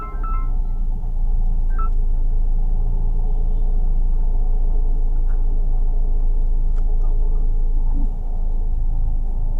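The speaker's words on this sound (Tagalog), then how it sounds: "Grabe, kakaiba yung traffic ngayon." Steady low engine rumble and road noise from inside a car stuck in heavy traffic around BGC and Makati, loud and continuous with faint scattered clicks and no talking.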